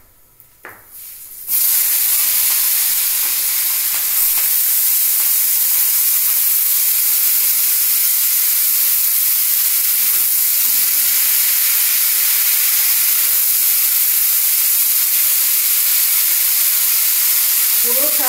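Vegetables tipped into a hot pan for veg chowmein set off a sudden loud sizzle that holds as a steady, dense hiss to the end, close and without talk.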